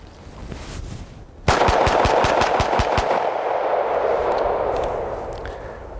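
A 1911 pistol fired during a gun torture test: after a quiet lead-in, a rapid string of about eight sharp, loud shots rings out in quick succession, followed by a lingering echoing tail outdoors.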